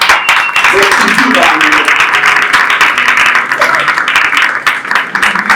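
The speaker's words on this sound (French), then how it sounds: "Applaudissez pour Lolo" Steady, dense applause from a crowd at a film festival award ceremony in Burundi fills the whole stretch, with a voice faintly audible beneath the clapping.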